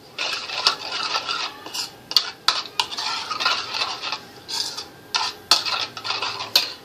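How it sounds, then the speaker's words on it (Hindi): A spoon clinks and scrapes in a bowl as a prawn marinade with lime juice is stirred, giving quick repeated taps and clatters close by with no voice. "हाफ लाइम जूस, इन सबको अच्छे से मिक्स करेंगे हम।"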